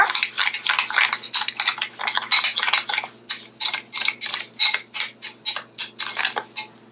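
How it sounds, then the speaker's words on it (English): Egg and banana facial mask being mixed into brown sugar in a bowl, a quick run of close, crisp clicking and scraping strokes from the spoon in a fast, uneven rhythm, with no voices. "we're going to take 2 tablespoons of our facial mask. We're gonna mix this in the brown sugar."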